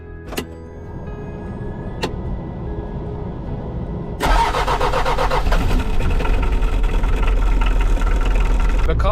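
A Mitsubishi L300 van's engine after a glow plug change: a couple of faint clicks, then the motor cranks and catches, settling into a loud, steady idle with a low rumble, under some background sound.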